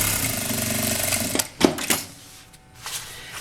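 A sewing machine stitches along the edge of joined fabric scraps, a rapid close mechanical whir for over a second that stops, followed by a few short bursts and handling clicks.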